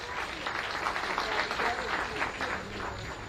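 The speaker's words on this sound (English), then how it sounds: "Give him a little round of applause." Applause from an ecommerce mastermind audience, a steady wash of many hands clapping at moderate level for the full stretch, with voices faintly mixed in.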